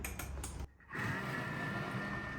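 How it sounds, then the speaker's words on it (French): Kitchen food processor mixing batter with baking powder at speed 5, a steady whirring motor hum with a brief dip and restart, then continuing loud and even. "je vais mixer pendant 15 secondes"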